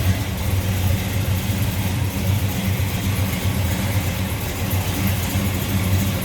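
1987 Chevrolet Monte Carlo with headers, idling steadily up close, a low even rumble holding constant with no revving or talk.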